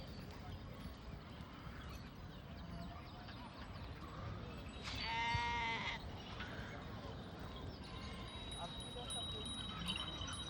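A single loud, wavering sheep bleat rises midway through a flock outdoors at a morning palkhi gathering in Khed Shivapur, Pune, followed by a fainter second call, with people talking and general bustle throughout.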